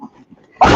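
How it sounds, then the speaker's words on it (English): A pet dog lets out one loud, close bark at the end, after a stretch of near silence with faint low household noise. "And he's going to bark again"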